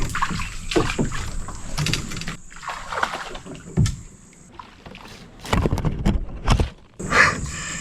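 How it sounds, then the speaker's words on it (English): Someone wades through shallow river water in the Florida wilderness, walking a boat. Irregular sloshes and splashes come close and moderately loud, along with hull knocks and scrapes and uneven bursts of movement. "I have to get out and walk the boat right here"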